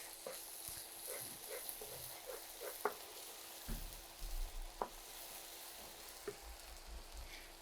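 Ginger-garlic paste with garlic and onion frying in a pan for dried loitta fish bhuna, a soft, steady sizzle with occasional faint ticks and spoon scrapes, quiet and close.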